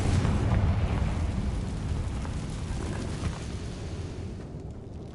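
A Confringo blasting spell from Hogwarts Legacy erupts in a dense, loud rumbling explosion that fills the clip and slowly fades, with no speech over it.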